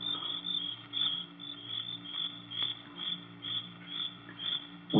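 Crickets shrill at night, a dense steady high chirping that pulses continuously through the scene, moderately loud and alone with no voices.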